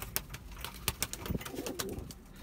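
Pigeons cooing inside a mixed pigeon coop, with several low throaty coos and soft wing and shuffling sounds close by, over a busy, crackly background.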